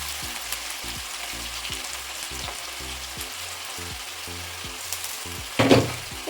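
Green chillies sizzle and crackle steadily in a hot pan of oil alongside eggs, a continuous frying hiss with a louder burst of spattering near the end, no voices.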